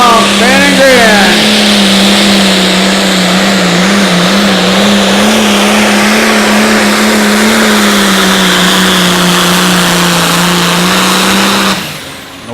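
A John Deere pulling tractor roars loud and steady at an outlaw tractor pull in Wisner, Nebraska, its engine note holding strong with slight wavering for about twelve seconds before cutting off abruptly.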